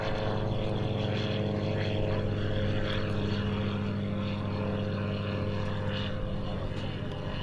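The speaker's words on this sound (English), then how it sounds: "Oh, look, an airplane." A propeller airplane drones overhead at a steady, sustained level, its engine hum continuous through the whole stretch with no talk over it.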